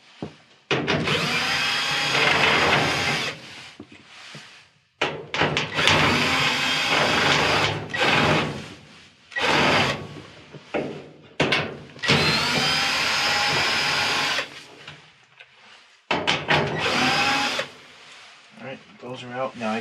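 A power drill backs out the 5/16 screws on a Maytag dryer being repaired for a broken drive belt, whirring in several loud close bursts separated by short pauses.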